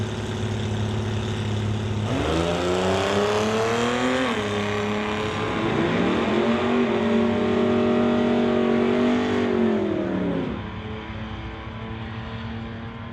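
An AMC Pacer drag racing car at a drag strip, engine loud and close, idling, then rising in a couple of revving surges before settling down, a steady roar throughout.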